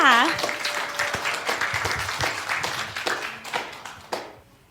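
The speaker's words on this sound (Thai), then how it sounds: "ถ้าพร้อมแล้วขอเสียงปรบมือดังๆให้พวกเขาด้วยค่ะ" Audience at a church Christmas play loudly clapping for the cast, close, lively hand claps with sharp individual strikes, a brief voice at the start, then tapering off at the end.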